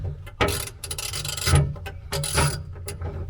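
Hand-tightening a bolt on a TJ Ridgeback mount over bare metal with thick rubber footing: a series of close scraping, grinding rasps with faint ratchety clicks, loud and steady with no talking.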